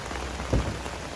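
Steady rain patters on a surface during wet weather, a constant close hiss with one brief louder thud partway through; no one speaks.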